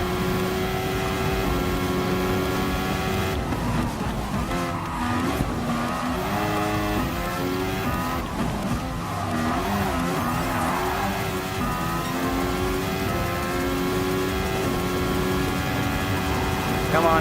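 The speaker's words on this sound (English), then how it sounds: "just be a man and drive hard with this F1 car" A Mercedes AMG Grand Prix Formula One car races in Gran Turismo Sport, its high engine whine sweeping up and down through gear changes with bursts of tire squeal. It stays loud and continuous, with a voice talking over it.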